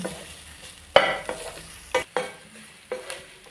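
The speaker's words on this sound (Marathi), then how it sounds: "आता ही आपण चांगली परतान घेऊया" Okra being sautéed in a pan for a Malvani-style vegetarian meal, with a soft steady sizzle broken by several sharp spatula scrapes and stirs against the pan at irregular intervals, close and moderately loud, no talking.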